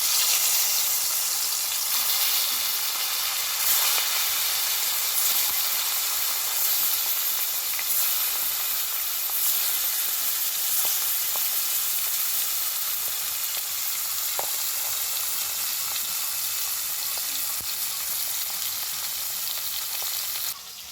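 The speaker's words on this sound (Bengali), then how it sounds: "এবার মাছগুলো তেলের ওপর দিয়ে দেবো" Snakehead fish frying in hot oil in a pan, giving a loud, continuous bright sizzle and hiss with small pops, steady for the whole stretch with no talking.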